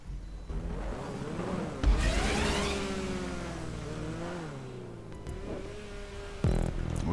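A car engine in a GTA 5 parkour race, a video game, revs and accelerates, rising and falling in pitch with shifts, alongside sudden impact bursts. Steady, moderately loud engine drone with no talk over it.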